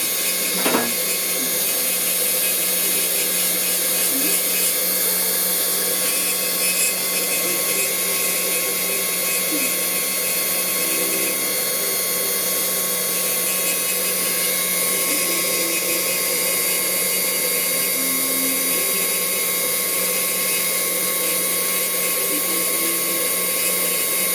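A dental-style rotary drill carves a wax ring for silver jewellery, whining continuously at a steady high pitch for the full duration, close and fairly loud, with faint speech underneath.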